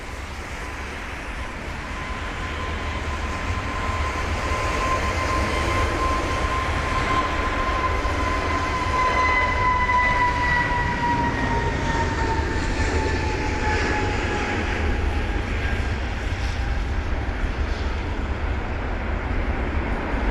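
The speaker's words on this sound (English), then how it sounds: "Off that 320neo goes. Obviously rocketing out of London Heathrow, wasn't it?" A British Airways Airbus A320neo jet roars steadily through a Heathrow takeoff in wet, spray-filled conditions, a loud sustained engine rumble with a rising whine sweeping across it, continuous for the full stretch and with no voices.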